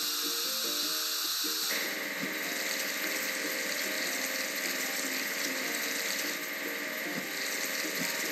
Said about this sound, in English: Tap on the car wash to wash the vehicle.